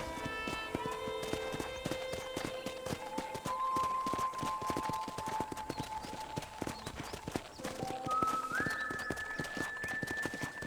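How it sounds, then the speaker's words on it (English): Horse hooves clip-clop at a steady walking pace in the Red Dead Redemption video game, rhythmic and close, with a soft melodic music line and faint ambience behind. "I picked out a fine horse for you."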